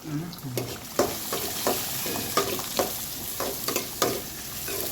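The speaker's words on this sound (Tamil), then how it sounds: "இப்போ நம்ம வறுத்த அரைச்சி வச்ச மசாலையை சேர்த்துக்கிட வேண்டியதான்." Ground roasted masala stirred in a frying pan, giving a steady sizzle with a spatula scraping and tapping the pan every second or so, close and moderately loud.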